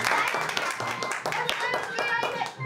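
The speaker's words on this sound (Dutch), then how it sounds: "Heel goed, applaus." Clapping from an audience of children and adults for a young girl acting in a storytelling show, a fast, dense patter of many hands close by, with children's voices calling out over it.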